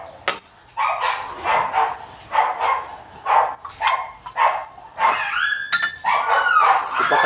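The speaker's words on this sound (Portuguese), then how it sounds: "tem tipo uma matilha de cachorro aí no fundo do quintal" A pack of dogs barks in a backyard, with repeated overlapping barks and yips, some whimpering, fairly close and loud.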